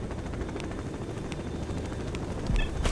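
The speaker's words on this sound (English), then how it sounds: "There's a helicopter." A helicopter in the S.T.A.L.K.E.R. NOMAD 1.4 mod pack drones steadily with a low rotor rumble, continuous and moderately loud, alone with a faint sharp crack near the end.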